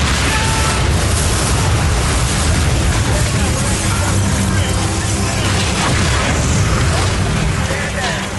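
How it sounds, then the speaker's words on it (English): A farmhouse blown up in a 1998 TV drama gives a loud, sustained explosive roar with rumbling debris for the full clip, and it stays dense and continuous throughout. "They have blown up the farmhouse."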